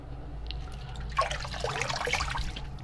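Water runs from a tap to rinse a razor blade after a shave, a soft splashing trickle that starts after a second and continues moderately close, with no talking.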